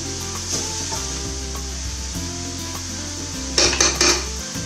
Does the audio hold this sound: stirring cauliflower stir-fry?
yes